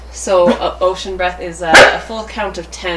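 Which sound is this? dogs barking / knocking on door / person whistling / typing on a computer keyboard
dogs barking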